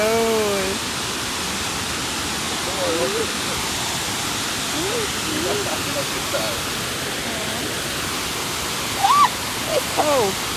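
Shallow little stream on a hiking trail, a steady broadband rush of flowing water close by, with a baby's babbling and a voice over it.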